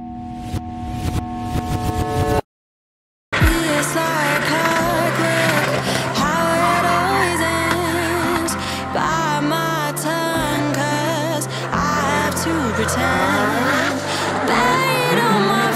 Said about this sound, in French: des pilotes qui crament de la gomme, qui brûlent le bitume